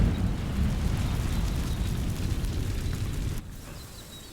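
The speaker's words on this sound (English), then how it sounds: "These dry vines are one spark away from becoming kindling. Incendio!" Incendio fire spell igniting dry vines in Hogwarts Legacy, a loud roaring whoosh of flame that fades and cuts off abruptly near the end, close and alone without talk.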